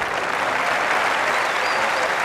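Tennis spectators at Monte Carlo applaud during the Gaudio versus Hrbatý semifinal, a loud, even sheet of clapping from a full stand that stays steady the whole time.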